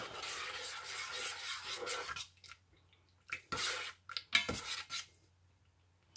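A utensil stirs a freeze-dried Numanna pasta primavera meal, giving close scraping and clinking in uneven bursts, with a short pause in the middle before several sharper knocks and scrapes.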